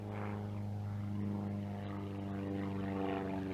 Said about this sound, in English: There's an airplane going overhead.